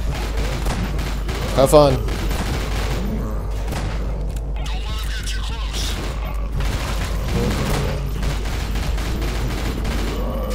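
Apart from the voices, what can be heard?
gunfire in the video game Nightmare House 2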